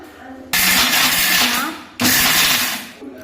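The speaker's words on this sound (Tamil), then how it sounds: "ஒரு மிக்சி ஜாரில் நிலக்கடலை, ஒரு டம்ளர் நிலக்கடலைக்கு நம்ம அரை டம்ளர் வெல்லம் போட்டு நல்லா கொரகொரப்பாக நம்ம இதை அரைச்சி எடுத்துக்கலாம்" A mixer grinder blends roasted peanuts with jaggery into a coarse mix in two loud bursts, about one and a half seconds and one second long, with a short pause between them. The whirring stops abruptly after each burst.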